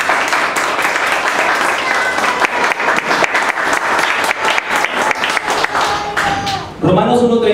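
A church congregation at a Spanish-language sermon applauds with loud, rapid, sustained clapping that rolls on for several seconds, then gives way to a voice speaking at the very end.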